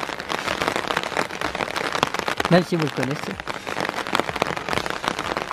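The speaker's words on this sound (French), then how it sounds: "Il pleut bien, hein." Steady rain falls outdoors onto a miniature sledding-run model, a dense, close patter of drops pattering continuously, with someone speaking briefly over it.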